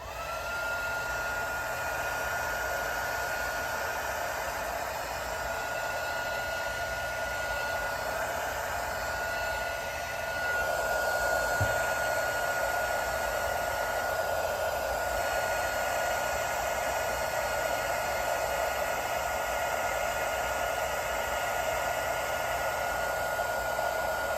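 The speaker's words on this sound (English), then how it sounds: "So I'm going to zap it now with the heat just to kind of smooth out those areas a bit." A heat gun blows a steady, even hiss throughout, smoothing alcohol ink on a tumbler, with a slight rise in intensity about halfway and no other sounds.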